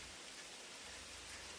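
Rain falls in a steady, even hiss with no individual drops standing out, faint and continuous throughout.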